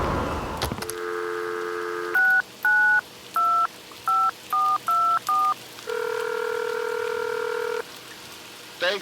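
Phone number dialed in the video game Batman: Arkham Shadow: a sustained dial tone, then seven crisp touch-tone beeps in an uneven rhythm, followed by a longer steady tone. Loud and alone.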